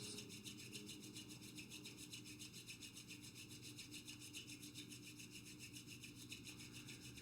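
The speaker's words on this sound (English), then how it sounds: "Allowing the hands to come together to heart center and a rub of the palms." Palms rubbed together at heart center during a kriya yoga practice, giving a soft, continuous dry friction hiss that holds steady for several seconds, quiet and alone with no talking.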